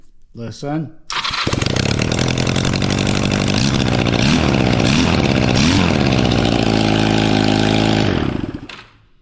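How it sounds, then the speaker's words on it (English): A mini bike fitted with a Honda Rebel street bike engine and a faulty exhaust fires up after a few quick cranks, then runs loud and close with rough revving pulses before cutting off. "I've got something screwed up on the exhaust. You'll hear that in a second."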